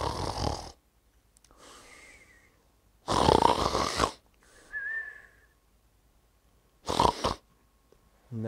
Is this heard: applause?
no